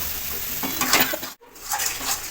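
Spice masala fries in a pan with scooped-out eggplant pulp for a stuffed eggplant dish, a close, bright sizzle with stirring scrapes that drops out briefly midway before resuming.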